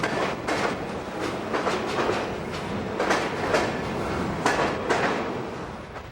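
A Pan Am Railways freight train rolls past in northern New England in summer, with steady rumbling and a repeated clickety-clack of wheels over rail joints, moderately close and continuous without voices.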